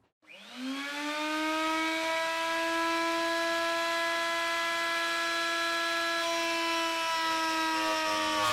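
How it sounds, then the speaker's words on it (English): A router milling a channel into an aluminium bar, a steady high-pitched whine with strong tonal harmonics that spins up in the first second and then holds loud and even, with no talk. "I'll mill a channel into the bar and leave about 2mm on each side"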